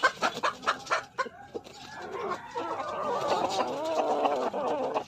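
Chickens cluck near a Filipino poultry farm where hens of three to four kilos are raised for sale, with repeated close clucks and calls forming a busy, continuous flock chatter.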